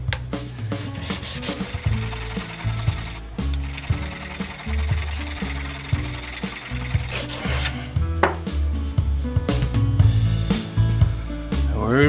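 A tungsten carbide lathe tool is sharpened by hand with steady back-and-forth rubbing strokes on an abrasive, each stroke close and rhythmic, with no talking.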